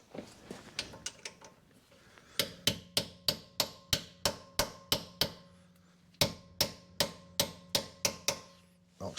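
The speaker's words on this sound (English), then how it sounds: "Now I'm going to give that one a little tap." A hammer taps on the rear trailing arm bush of a 2011 Ford Mondeo 2.0 diesel, giving a long series of sharp metallic knocks up close: a few quick light strikes, then two runs of steady, evenly spaced blows with no talking.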